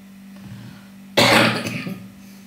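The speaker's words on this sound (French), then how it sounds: "je tousse le matin" A sudden harsh cough, or a throat-clearing cough, bursts out close to the microphone after a quiet stretch with a low steady hum, then trails off with a short rough tail.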